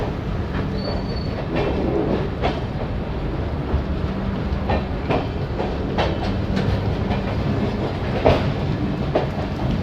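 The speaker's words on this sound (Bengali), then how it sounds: "ট্রেন ধীরে ধীরে পণ্ডিত দীনদয়াল উপাধ্যায় স্টেশন এন্টার করছে" A train slowly pulling into Pandit Deen Dayal Upadhyay station on a rainy early morning, a steady loud rumble of rolling wagons with faint wheel squeals and clacks throughout and no voices.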